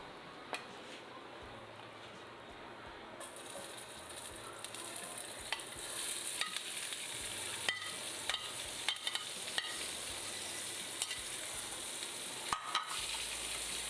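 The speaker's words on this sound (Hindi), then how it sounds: "अभी हम सब्जियों को फ्राई करेंगे" Vegetables fry in oil in a pan, a steady broadband sizzle that builds and thickens over time, broken by occasional sharp ticks and stirring knocks, with no voices.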